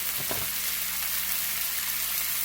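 Onions frying in a pan for loaded steak subs, giving a steady, dense sizzle that stays close and even throughout, with a brief clatter of stirring near the start and no voices.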